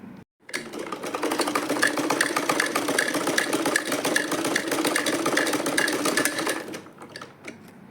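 A sewing machine top stitches a homemade side purse, starting after a short pause and running in a steady, rapid close-up chatter for several seconds before slowing and stopping.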